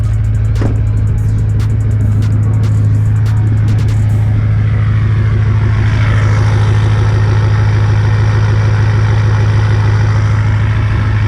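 A Nissan 240SX pulled from a barn after sitting abandoned idles loudly and steadily in cold weather, with a deep, constant rumble and a few sharp clatters early on.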